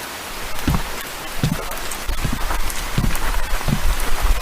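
Steady rain falls in an animated Hindi cartoon, a constant hiss of drops on surfaces broken by scattered heavier drips and splats, growing slightly louder toward the end.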